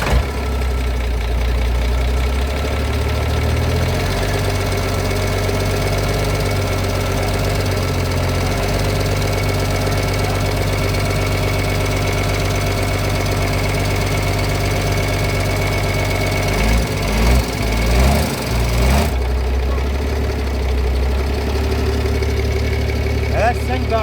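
A boat engine runs at a steady idle after starting, a loud, continuous mechanical drone with a rapid knocking pulse, briefly changing texture near the end before settling again.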